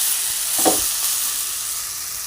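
A cabbage and crab curry being stirred in a pan, a steady hissing sizzle with one brief scrape of the spoon near the start, close up and without talk.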